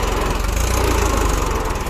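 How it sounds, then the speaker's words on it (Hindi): John Deere 5105 4x4 tractor engine labouring loudly while pulling a trolley in reverse with its wheels slipping, a steady, rough, dense roar with a fast knocking pulse and no pauses. "ये ट्रैक्टर स्लिप कर रहा है थोड़ा सा"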